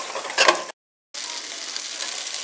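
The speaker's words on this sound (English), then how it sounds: "I'm going to brown this up a little bit first" Chicken browning in a pan sizzles loudly and steadily, close by, cut by a brief gap of silence before the frying hiss resumes evenly.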